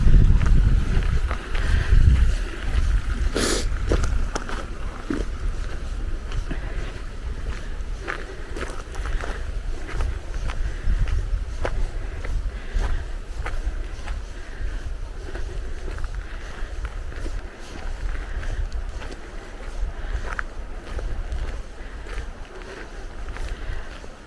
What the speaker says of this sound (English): the wind picking up.